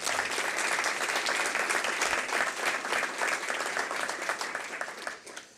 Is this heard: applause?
yes